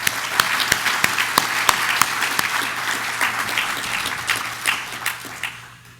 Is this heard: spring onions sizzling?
no